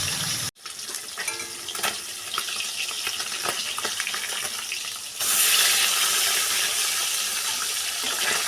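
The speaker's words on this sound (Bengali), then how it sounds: "এবারে কড়াই গরম করে তেল গরম করে একে একে মাছগুলো দিয়ে দেব।" Katla fish pieces, rubbed with salt, turmeric and lemon juice, going into hot oil in a wok, a close hissing sizzle that jumps louder midway as more fish hits the oil.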